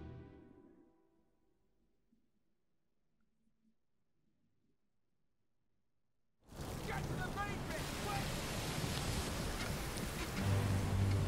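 An explosion on a ship in the video game Return of the Obra Dinn, a sudden loud burst cutting in after near silence and carrying on as a dense roar to the end.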